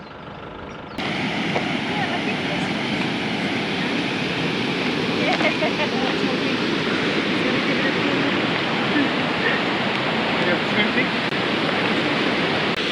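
Water rushing through the Pamamaroo inlet regulator into a lake near Broken Hill, Australia: a loud, steady roar that begins abruptly and continues unbroken, close by.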